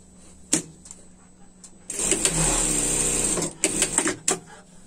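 A sewing machine stitches a seam on the collar of a pet winter dress in one short, close burst of rapid whirring, bracketed by small clicks and handling knocks.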